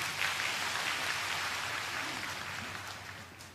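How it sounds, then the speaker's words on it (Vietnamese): A congregation at a Catholic episcopal ordination Mass applauds in a broad, hissing wash of clapping that sounds somewhat distant and reverberant, steady and then slowly easing. "Xin cộng đoàn cho anh tràng pháo tay"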